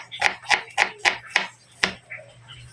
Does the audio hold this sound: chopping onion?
yes